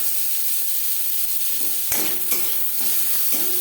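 Carrots and onions sizzle steadily in a hot pan, with a few scraping stirs cutting through the constant frying hiss, close up with no talking.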